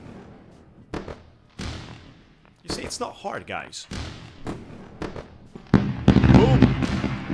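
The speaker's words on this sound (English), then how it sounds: "Time for the fireworks." A fireworks sound effect plays on a futures trading livestream: sharp bangs, crackles and whistling bursts that build to a dense, loud volley. Someone talks casually over it.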